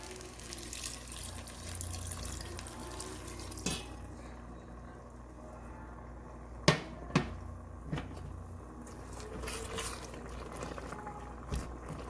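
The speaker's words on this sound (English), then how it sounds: "now I'm gonna add a cup of vegetable broth" A cup of vegetable broth poured into a pot of rice with mushrooms and tomato paste, a steady close liquid stream for a few seconds followed by quieter clinks and scraping, no voices.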